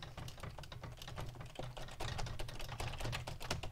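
Fast, heavy typing on a computer keyboard while playing the browser game Transformice, a dense run of sharp, irregular key clacks close to the microphone with a low background hum throughout.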